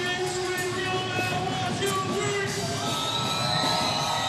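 A parade crowd at Mobile Mardi Gras cheers and shouts, a dense wash of voices and whoops with children yelling, steady and loud throughout, some chatter mixed in.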